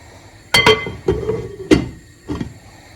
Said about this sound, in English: Stir everything in.